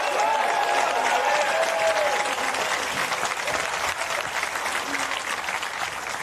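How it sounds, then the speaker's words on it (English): Sustained audience applause for the two finalists at a World Grand Prix snooker final, a dense, steady wash of clapping from a large crowd that fills the whole stretch and eases slightly toward the end. "Ladies and gentlemen, may we have another round of applause for both our finalists,"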